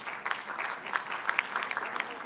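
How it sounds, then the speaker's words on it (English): Applause from an audience at a Filipino Canadian National Council gathering in Winnipeg, a steady wash of many hands clapping at moderate distance, fairly soft, lasting a couple of seconds with no voices on top. "Again, let's give a big round of applause."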